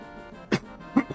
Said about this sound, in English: So apologise about the cough there.